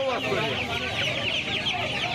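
Young Australian chickens, about a month old, clucking at a crowded poultry market, a continuous loud chorus of overlapping clucks and chirps nearby, with faint voices underneath.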